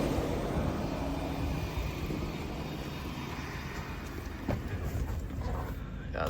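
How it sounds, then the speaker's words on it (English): Radiator fan of a high-mileage 2021 Ford F150 running because the AC is on, heard from outside: a quiet, steady whooshing hum with engine idle beneath it and a person speaking briefly. "Yeah, the fan came on because of the AC,"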